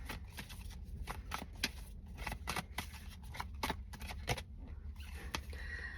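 Tarot cards are shuffled and drawn for a reading, a busy run of crisp flicks and papery snaps repeating close up for several seconds, with no one talking.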